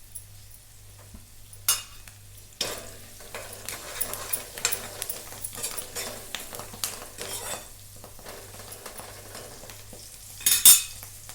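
Curry leaves, turmeric and salt frying and being stirred in a pan for poha, with a steady low sizzle under repeated scraping and clinking of a utensil against the pan, busier near the end.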